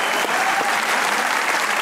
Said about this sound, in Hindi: कुबरा खान के लिए एक बार तालियां होनी चाहिए।